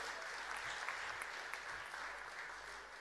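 Sustained, dense applause from a large audience welcoming UPSC toppers at a state honour ceremony in Bhopal, steady and even for the whole stretch with no voices over it.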